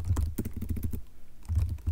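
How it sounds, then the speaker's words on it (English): A computer keyboard is typed on in quick bursts of close, crisp key clicks while entering a terminal install command on a Linux system, with a short pause between two runs of keystrokes. "you can install these by typing sudo apt install docker"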